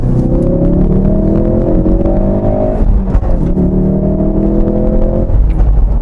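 Ford Focus RS engine revved twice in quick succession, each rev climbing steadily before a brief drop, loud and close with no talking.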